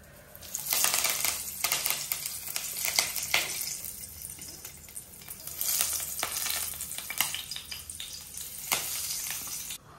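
Onions sizzling in hot oil in a pan, a steady crackling fry with intermittent stirring clinks and scrapes, close and moderately loud with no talking.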